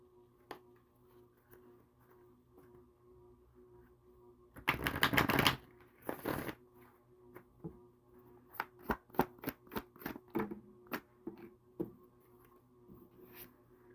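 A tarot card deck is shuffled in short bursts: one dense riffle, a pause, then a run of quick crisp card snaps and flicks, close and quiet in a still room.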